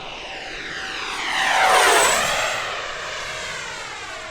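An RC MiG-29 model jet makes a fast low pass, its turbine whine rising to a loud peak with a clear Doppler drop as it rushes past and fades away.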